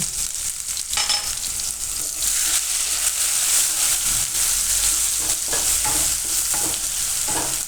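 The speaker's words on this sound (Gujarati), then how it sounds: "તો તેલ આપણું ગરમ થઈ ગયું છે, એમાં આપણે નાખીશું પહેલાં આદુ ને મરચાં અને હિંગ." Ginger, green chilies and asafoetida sizzle steadily in hot oil in a home kitchen while Gujarati bhinda paratha is being made, a dense continuous frying hiss with occasional stirring scrapes, close and alone.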